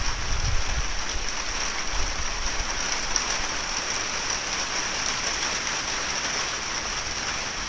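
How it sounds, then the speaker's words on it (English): Rainwater running steadily outside, a dense continuous hiss of falling and streaming water at even loudness, with a few faint low thumps early on. "It's like a little stream of water coming down here"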